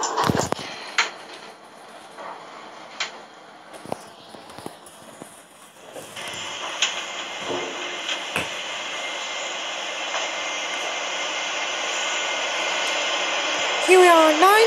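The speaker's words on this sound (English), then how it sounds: "Here's the first elevator. It's a zremb. Modernized by BSM." Zremb elevator modernized by BSM in a Roblox game, starting with scattered clicks and thumps, then settling into a continuous loud hum with a final chime-like tone.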